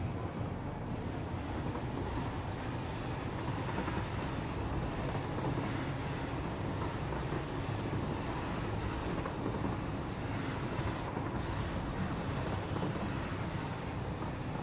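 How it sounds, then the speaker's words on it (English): Steady rumbling rattle of a train running along rails in a video game, a continuous broadband roar that holds at a constant level throughout with no speech over it. "Now I just need to ride this train"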